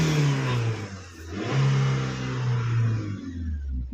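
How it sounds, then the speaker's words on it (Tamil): Hyundai car engine revving while running in place, a steady loud mid-pitched roar that swells and eases in several surges over a few seconds, close by, with no voices. "வண்டி ரேஸ் பண்ணி காமிக்கிறேன்."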